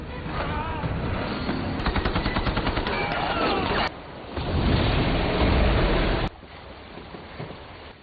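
Rapid gunfire from a film shootout and chase, dense bursts of shots over a loud, churning rumble, with a sharp shift midway into a heavier roar before dropping to a lower, busier background.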